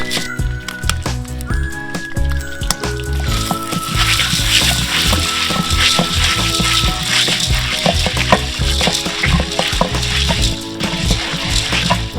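Popcorn kernels cooking in butter coconut oil, probably in a large popper, a dense steady sizzle and rattle with frequent sharp pops throughout, close and continuous for several seconds, no voices.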